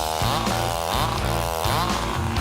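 A buzzing chainsaw solo from a hair metal hit, a loud continuous snarl with rising and falling pitch sweeps over a dense band backing, repeating in waves without pause.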